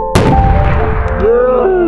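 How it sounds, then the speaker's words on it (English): A concussion mortar with a gigantic barrel launches a metal trash can skyward: one loud, sharp boom near the start, then a long, ringing metallic decay that fades over two seconds, with no talking. "It's concussion mortar with a gigantic barrel on"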